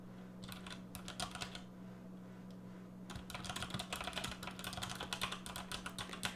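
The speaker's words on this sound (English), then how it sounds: "Excuse my typing real quick." Quick bursts of typing on a computer keyboard, close and fairly quiet, with a short pause before a denser, continuous run of keystrokes.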